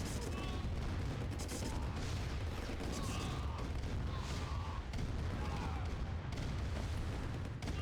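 V2 rockets striking in the video game Command & Conquer: Red Alert, a dense rumbling barrage of distant booms and artillery-like blasts that rolls continuously, fairly faint under the battle noise.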